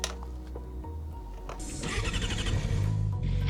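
A newly bought motorcycle engine cranks and catches, then settles into a loud, steady idle with a dense rumble that grows fuller after about two seconds, close by and with no talking.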